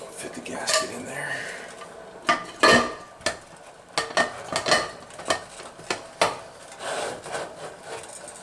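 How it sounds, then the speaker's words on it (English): A rubber gasket is worked into a pressure cooker lid with scattered metallic clinks, rubbing and sharp knocks of metal against metal, close and irregular, with a little speech in places. "Fit the gasket in there."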